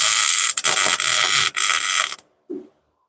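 A welding torch's wire feed mechanism, its torch end bent in a bind, buzzes steadily for about two seconds, with a couple of brief dropouts, then a short soft clunk after it stops.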